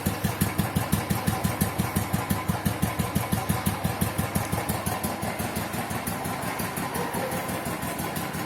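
A Royal Enfield Thunderbird 350 motorcycle with a stock silencer idles close by, its single-cylinder thump steady and loud, repeating rhythmically for several seconds without speech.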